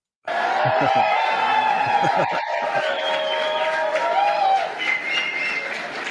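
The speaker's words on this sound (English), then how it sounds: "People start cheering." A crowd cheers, whoops and chants the name Constantine. The roar is loud, dense and continuous, with many overlapping voices that swell and hold.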